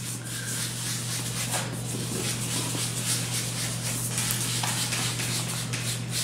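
A sponge dabs sky blue paint in circular motions onto an embossed butterfly craft box, making a steady, soft rubbing and scuffing texture over a constant low electrical hum, with no talking.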